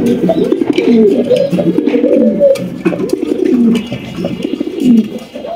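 Red King pigeons, a male and female pair at a seller's loft, coo in repeated low throaty rolls, close and steady, several birds overlapping throughout.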